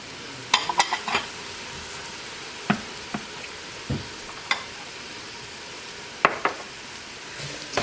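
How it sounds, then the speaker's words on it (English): Onions sweating in a pan for a sauce with capers, giving a steady soft sizzle throughout, broken by a few sharp clinks and stirring scrapes from a utensil against the pan. "we're just gonna let this sweat until the onions are cooked and translucent"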